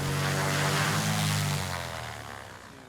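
A small propeller plane at a remote outback airstrip in a jungle setting drones loudly and close, its engine note steady before gradually fading and easing off toward the end.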